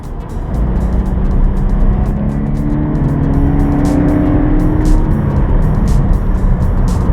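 2014 Scion FR-S sports car engine pulling hard under acceleration, a loud, steady, rising drone heard from inside the car, with no talking.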